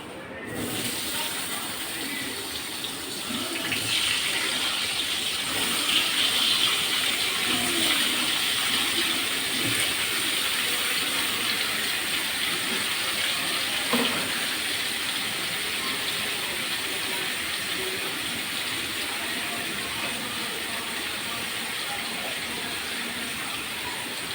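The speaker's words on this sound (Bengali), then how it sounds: "এখন আমি পটল আর কুমড়ো একটু ভেজে নিব" Pointed gourd and pumpkin pieces frying in hot oil, a steady loud sizzle that holds unbroken throughout, with faint clinks now and then.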